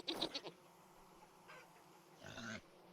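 Goats in the game Vintage Story bleat softly in a few short calls, a cluster of quick faint bleats at the start and a couple more further off later, with quiet ambience between.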